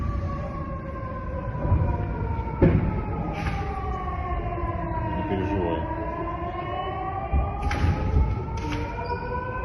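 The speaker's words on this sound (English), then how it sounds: "The air raid sirens are going off, everyone's laying a little low." Air raid sirens wail over Belgorod, long rising and falling tones layered from several directions, with a few dull thumps and faint voices underneath.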